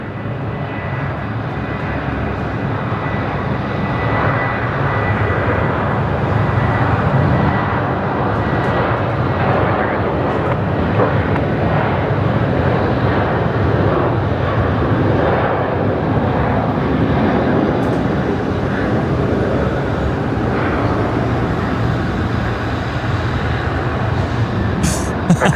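A Qantas jet airliner takes off at Brisbane Airport with a loud, sustained engine roar that holds steady and broadband for the whole stretch, heard from a spotting position with no talk.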